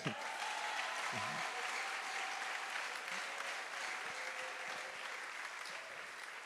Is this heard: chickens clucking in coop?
no